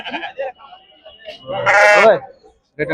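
A loud, quavering bleat from a Macherla-breed sheep rises up close in the middle of a livestock market, with people talking briefly before and after it.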